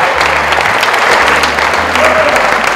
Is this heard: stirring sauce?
no